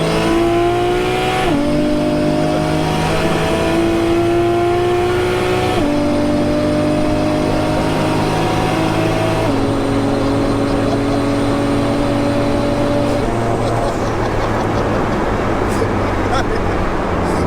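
A 1JZ turbo engine in a Nissan S13 with an M4 DCT gearbox revs hard and loud, climbing through four quick upshifts, each marked by a sharp drop in pitch before the revs rise again.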